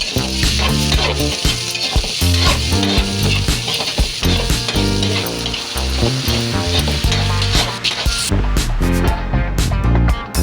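Garlic and onion sauté loudly in a pan for pork dinuguan, a dense, close sizzle with constant clattering stirring throughout.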